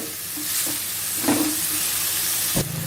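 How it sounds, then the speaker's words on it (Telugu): Four chopped medium tomatoes fry with ginger and garlic in a pan, giving a steady close sizzle with a few scraping stirs of the spoon, with no talking. "ఒక రెండు నిమిషాలు ఇలా కలుపుకుంటూ ఫ్రై చేసుకోవాలి"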